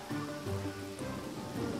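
Rain patters in a mobile video game, a short steady wash of drops layered over low tonal game sounds that fade midway.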